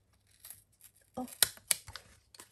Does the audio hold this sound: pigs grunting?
no